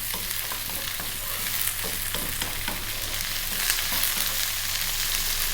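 Steady sizzling of food frying in a hot pan, with scraping and stirring sounds throughout, close and continuous, no voices.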